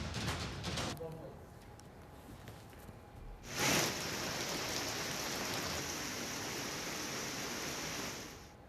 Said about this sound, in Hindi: सुबह से ही अंबाला में झमाझम बारिश का सिलसिला जारी है।